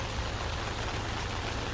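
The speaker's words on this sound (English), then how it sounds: "it's still raining" Steady rain falls outdoors, a dense, even hiss of drops that stays constant and fairly loud from start to finish, with nothing else standing out.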